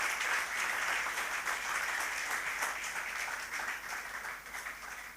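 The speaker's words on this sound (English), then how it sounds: "Can you give yourselves a round of applause?" A room full of people applauds at a fellowship program launch event, a dense, steady wash of clapping that fades slightly toward the end.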